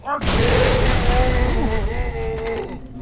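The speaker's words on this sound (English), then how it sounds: "Big explosion." A big explosion in Halo 3 on Xbox 360 booms loudly and rolls on for nearly three seconds as a broad rumbling blast, with brief game tones over it and a voice speaking briefly.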